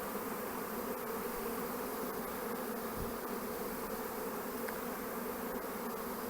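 A honeybee swarm hesitating at the entrance of a hive, a dense, steady buzzing drone that stays close and unbroken for several seconds with no voices.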